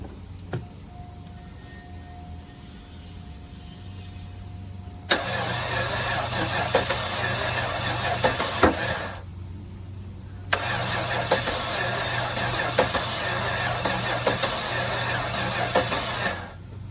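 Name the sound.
2002 Cadillac DeVille engine cranking over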